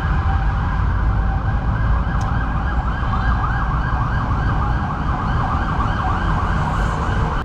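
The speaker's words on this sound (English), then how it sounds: "Lot of sirens." Emergency vehicle sirens wail continuously along a Bangkok street, loud and near, their rising and falling tones layered over rumbling road traffic.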